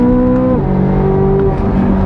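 A Corvette C8 Z06's hand-built V8 revs hard and near on a canyon road, its pitch climbing then dropping sharply as it shifts, loud and alone.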